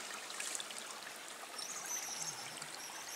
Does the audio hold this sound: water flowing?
yes